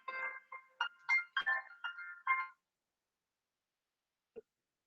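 Electronic ringback tone on an outgoing phone call, several short warbling bursts in quick succession for about two and a half seconds, then silence and a faint click.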